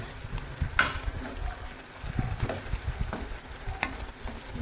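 Pork ribs and vegetables with flour are stirred in a sizzling pan. Steady frying hiss runs under irregular scrapes and clinks of the utensil, close by, with no speech.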